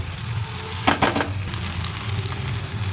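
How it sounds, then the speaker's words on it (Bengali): Onion, then potato and ridge gourd, go into hot oil for a shrimp dish, setting off a sharp burst of sizzling that settles into a steady frying hiss close by, with no talking. "তেলের মধ্যেই দিয়ে দেবো পেঁয়াজ এরপর পেঁয়াজের মধ্যে দিয়ে দেবো কেটে রাখা আলু ঝিঙে ধনে পাতা"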